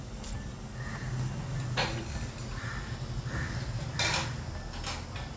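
Poppy seeds being stirred and roasted in a pan on low heat, with soft scraping and a few light metallic clinks of the utensil against the pan over a constant low background.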